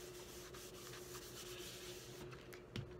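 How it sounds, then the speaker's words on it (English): An embossing buddy is rubbed over the inside of a paper greeting card, giving a faint, steady scuffing that continues without a break and ends with a small bump. "I need to use my embossing buddy here on the inside"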